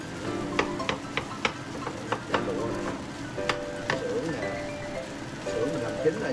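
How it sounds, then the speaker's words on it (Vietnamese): Fried rice being stir-fried in a pan, a steady crackling sizzle broken by scattered sharp clanks of a utensil scraping and tossing the rice, close by. "Mình xào lại cho nó thơm thôi."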